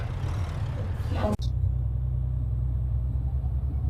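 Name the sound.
truck driving in video game Euro Truck Simulator 2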